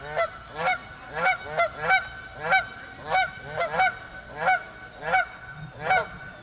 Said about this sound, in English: Now you're hearing the geese, which are real